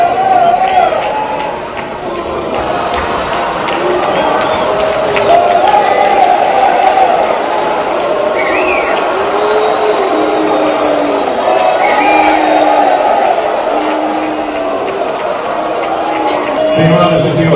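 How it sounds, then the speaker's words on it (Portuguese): A large crowd of mayors at a ceremony with Lula on stage jeers and shouts in a loud, sustained roar that lasts throughout, mixed with a voice over a public address system. "Lula é vaiado pela maioria dos prefeitos."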